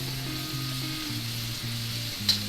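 Chicken karahi sizzles steadily in a wok in a Karachi street-food style kitchen, a continuous close frying hiss with a faint low hum underneath and a brief clatter near the end, no voices.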